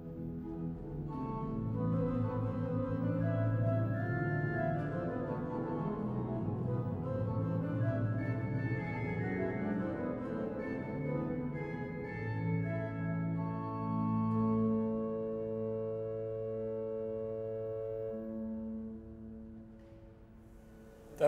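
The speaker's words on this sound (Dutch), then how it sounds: "Als ik bijvoorbeeld eventjes hier op het rugwerk een cornet klaarzet en ik speel hier een 16-voets cornet" A large pipe organ at Saint-Eustache in Paris plays a 16-foot cornet stop drawn on the Rückpositiv in French Classical style, a reedy, ornamented melodic line over sustained low chords, played alone and fading into room reverberation.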